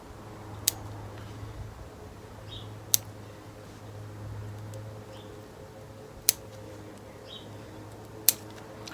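Pruning shears trimming back plant growth to reshape it: four sharp, isolated snips spaced a couple of seconds apart, close by over a steady low background hum.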